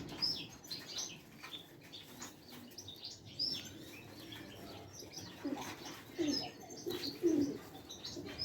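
Pigeons kept by a breeder in the Kasbah quarter of Marrakesh coo softly and repeatedly among faint chirps and the odd flutter of wings, in a quiet setting.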